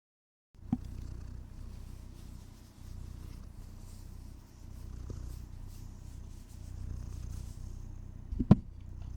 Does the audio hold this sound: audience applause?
no